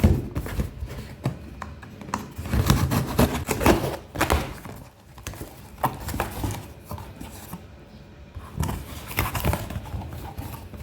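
Unboxing a DJI Mic Mini package: close, irregular thumps, taps and rustling of cardboard and packaging, uneven in loudness, with no speech over it.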